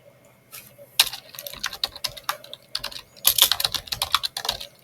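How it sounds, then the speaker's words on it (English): Rapid, irregular keystrokes on a computer keyboard, close and crisp, with a few denser bursts of typing and no voices. "I just type it setup calendar."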